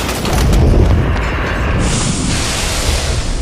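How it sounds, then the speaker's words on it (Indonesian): Smoke bombs going off all at once in a film scene, a loud booming blast that swells into a sustained rushing hiss lasting several seconds. "semua bom asap yang dipasang Ekin Chen kemarin meledak secara bersamaan"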